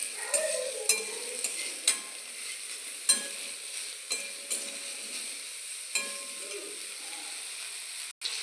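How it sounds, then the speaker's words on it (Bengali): Soybean chunks frying in a pan, with a quiet steady sizzle and scattered spatula scrapes and clinks, fairly soft and without talk. "দেখো আমি সয়াবিনটা এই যে ভালো করে ভেজে নিচ্ছি।"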